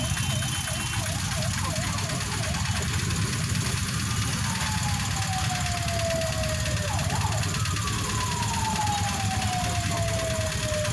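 An ambulance siren wails in long rising and falling sweeps over a loud, constant rumble of traffic and engine noise, sounding fairly near and steady throughout.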